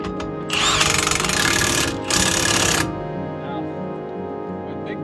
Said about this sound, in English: Back on my impact wrench.